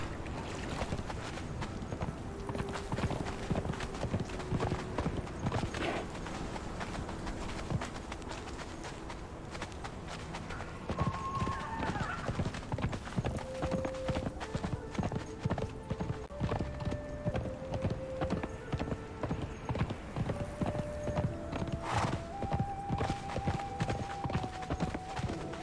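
A horse in Conan Exiles gallops with a dense, steady clip-clop of hooves that runs throughout, while brief tonal game chimes rise and fall in the background.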